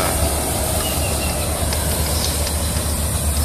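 The engine of a rice harvesting machine runs in a paddy field, producing a loud, steady mechanical drone with a deep rumble that continues unbroken throughout.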